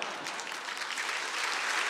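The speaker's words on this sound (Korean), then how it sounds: "한 번 더 격려의 박수 부탁드리겠습니다" A church congregation applauds during a Sunday worship service, a steady, dense wash of clapping hands filling the whole moment at moderate volume with no speech over it.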